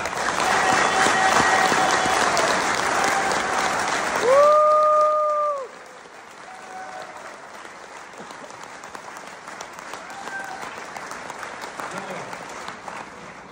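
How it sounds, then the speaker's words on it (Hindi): A hotel-hall audience claps together in a loud, dense burst of applause that stops sharply partway through, leaving quiet room tone and faint scattered sounds. "वो तालियों से आपको दिखाना है कि आपके अंदर कैसा जोश है।"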